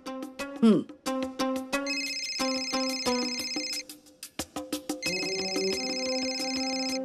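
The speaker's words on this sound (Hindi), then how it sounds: "पार्टी के अध्यक्ष का फोन।" A phone rings with a bright, repeating electronic melody, the tune cycling several times at steady volume without pause.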